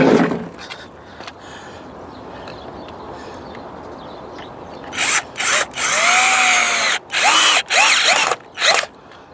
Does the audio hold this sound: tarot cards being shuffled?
no